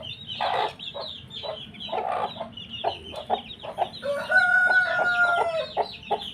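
A brood of newly hatched chicks peeping and cheeping close by, with dense, overlapping high chirps throughout and a few clearer sustained calls toward the end.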